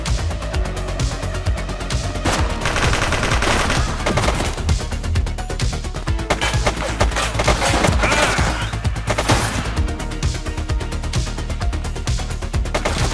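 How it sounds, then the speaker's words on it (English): Rapid bursts of gunfire in The Precinct police game, close and loud, layered over a busy bed of game music and effects with no pauses across the stretch. "Shots fired!"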